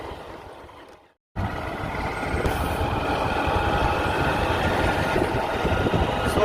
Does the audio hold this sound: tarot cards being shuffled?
no